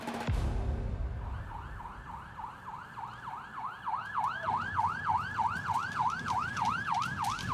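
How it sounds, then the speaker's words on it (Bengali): A police jeep siren wails in a Bengali crime drama audio story as it speeds through a quiet city at night; a steady, rising-and-falling electronic wail grows louder and continues throughout. "রাতের নিস্তব্ধ শহর চিরে সাইরেন বাজিয়ে পুলিশের জিপ দ্রুত গতিতে এগোতে লাগল শরৎ বোস রোডের দিকে"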